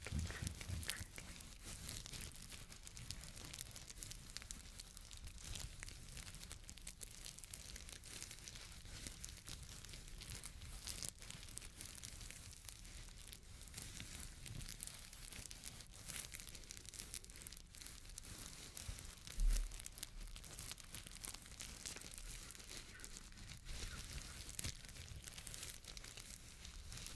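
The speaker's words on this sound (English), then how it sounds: "Doing a bit of crinkling. Crinkling, crinkling, crinkling." Material crinkled and crumpled by hand, a continuous faint crackling texture with scattered louder crunches, close and alone, with no talking.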